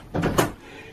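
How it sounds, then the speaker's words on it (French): Double doors swing shut in a concert hall, a short muffled thud with a brief rattle of the closing leaves, then quiet room tone. "je ferme les doubles portes comme ça vous savez"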